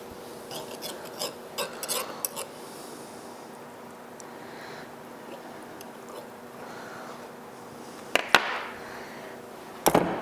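A knife trims excess dough from a homemade apple pie crust, giving faint, scattered scraping and rasping strokes with a couple of sharper clicks near the end, all quiet and close.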